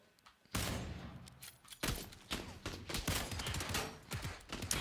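Gunfire in a shooter video game, rapid bursts of shots and automatic fire crackling in quick irregular volleys, loud and close, with no one talking over it.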